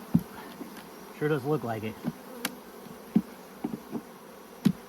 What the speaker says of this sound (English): Some of these are going to be baby nurse bees and stuff